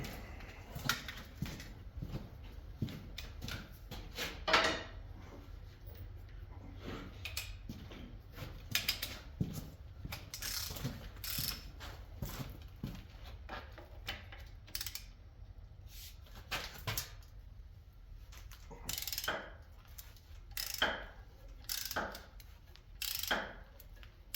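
Socket wrench working bolts loose on an old SA200 welder being scrapped, faint irregular ratcheting clicks and metallic ticks in short bursts against a quiet background.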